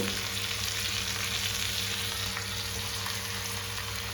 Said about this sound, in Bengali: এইবার আমি ওই সিদ্ধ করা ইয়েগুলো, কপি, মটরশুঁটি, এগুলো দিয়ে দিচ্ছি মশলার মধ্যে।